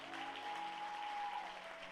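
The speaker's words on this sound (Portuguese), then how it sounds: "Dê uma salva de palmas bem forte ao Senhor" Applause during a church celebration service, a dense, even wash of many hands clapping, sustained and moderately distant throughout, with a faint sustained tone underneath.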